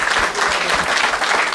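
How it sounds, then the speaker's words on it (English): Audience applause at a film Q&A with director Robin Hardy, a steady dense wash of clapping that fills the whole moment without any talking. "a big round of applause to Robin, to Lisa, and Paul and Nick"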